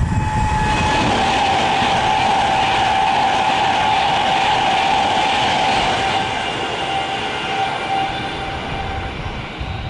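Class 350 train, a service from London Euston to Manchester Piccadilly, passing through platform 6 at Milton Keynes Central, a steady loud rumble of wheels on rail with a sustained high squeal throughout, no talk.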